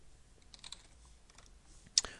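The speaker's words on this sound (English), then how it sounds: "I'm typing the @ symbol and then a name of a variable." Fingers tap a computer keyboard in scattered light clicks close by, ending with one sharper key strike, with no voices.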